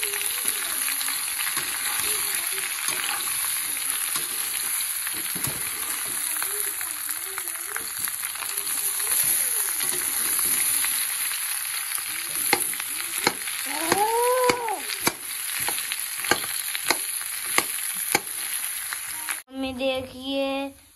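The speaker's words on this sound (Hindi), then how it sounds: "देखो ये भुंज रहे हैं धनिया और मिर्चा। अब इसमें आलू डाल दिए" Coriander, chilli and potatoes fry with spices for a Diwali samosa filling: a steady, close sizzle runs throughout, broken by stirring scrapes and clinks, with a brief different rattle near the end.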